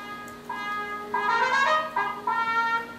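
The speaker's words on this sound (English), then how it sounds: "what you're hearing is obviously trumpet with some clicks or some kind of woodblock sound behind it" A sustained, bright trumpet line plays a few held notes, with soft computer-generated woodblock-like clicks marking each new note onset behind it, heard alone and fairly close.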